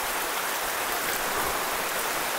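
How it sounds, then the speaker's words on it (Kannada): Rain falls in a dense forest in Northeast India, a loud, even, hissing downpour on leaves that continues unbroken throughout. "ಮಳೆ ಬಂತು ಗುರು, ಸ್ಟಾರ್ಟ್ ಆಯ್ತು ಮಳೆ"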